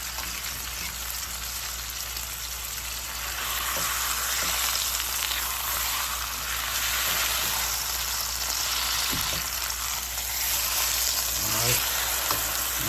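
A corned beef mixture sizzles and fries steadily in a pan while it is stirred, with a continuous crackling hiss and faint scraping throughout.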